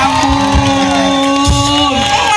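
A live outdoor concert crowd at a field show cheers and whoops loudly, a dense roar with shouts rising over sustained music tones, close and continuous.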